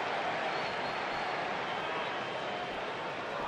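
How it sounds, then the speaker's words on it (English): Crowd in a wrestling arena during a televised Raw event, a dense, steady roar of cheering and applause that fills the whole stretch without pause. "by the sound of this crowd, I think they're getting what they wanted"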